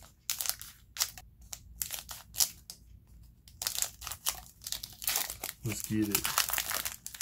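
Pokémon booster packs from an Unbroken Bonds Elite Trainer Box being cut open, with crinkly foil wrappers rustling and crunching in short bursts close by while a couple talks over it.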